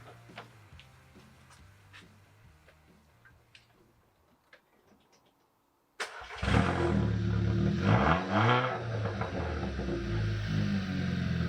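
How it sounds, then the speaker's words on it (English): An Audi TT with its exhaust disconnected: quiet ticking and small clicks, then a sudden engine start and a loud, raw rev that swells and falls before settling into a rough, loud idle, with no talk. "it wouldn't be YouTube if I didn't give the car a start and a little rev with the exhaust"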